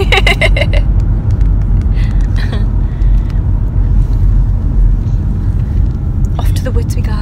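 Steady low road and engine rumble fills the cabin of a big family car on the move with children aboard, continuous and close, with voices talking over it and a brief higher rattle near the start and end.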